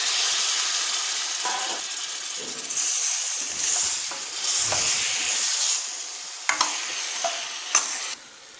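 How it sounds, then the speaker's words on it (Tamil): Meat for curry sizzles loudly in a hot pan with a steady hiss, broken by stirring scrapes and a few sharp clinks of the spoon against the pan. "அடுத்ததாக நம்ம வச்சிருக்கிற கறியை இதில் சேர்த்துடலாம்."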